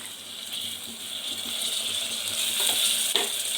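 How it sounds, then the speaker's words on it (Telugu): Tomatoes cooking down in oil for a home-style chicken pulao give off a steady, soft sizzle. A faint scraping texture runs beneath it, and one brief clatter lands near the end. "టమాటో కూడా మంచిగా మగ్గాలి"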